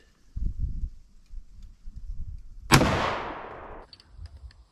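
A single loud shotgun blast from a Remington 870 fired at a target outdoors, sharp and close with a decaying tail about a second long, following soft handling noises.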